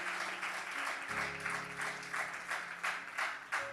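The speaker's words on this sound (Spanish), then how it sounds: "¿Alguien le puede dar un aplauso a Dios?" A church congregation claps together, a fairly faint, rhythmic round of applause with steady beats, while a sustained organ or keyboard chord hums underneath.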